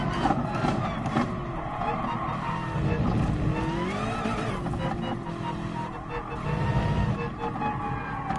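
Race car engine in a racing video game, a GR3 M6 on track, revving and shifting with tires skidding and squealing, loud and continuous throughout.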